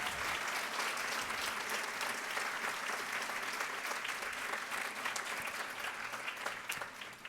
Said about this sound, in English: How about a big round of applause for all the fabulous PACE girls?